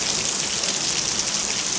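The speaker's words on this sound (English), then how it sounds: "This is heavy rain." Heavy rain pours during a thunderstorm in Laurens, South Carolina, a dense, even hiss of drops drumming on surfaces, loud and close without pause.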